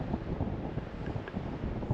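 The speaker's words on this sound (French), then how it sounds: "On est un petit peu plus abrité du vent qu'on pouvait l'être au niveau du château." Wind gusts buffet the microphone near a Sprinter 4x4 camper van parked in a semi-sheltered natural spot, a steady low rumble without speech.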